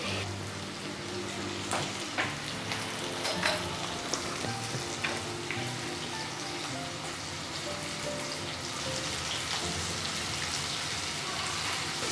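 Potatoes, onion and capsicum fry gently in a pan over a low flame, giving a steady, soft sizzle with scattered pops and crackles throughout, no voices.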